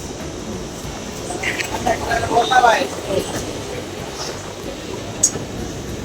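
A train to Panvel rumbles and clatters nearby with a swell of mechanical noise in the middle, over a busy platform-like background.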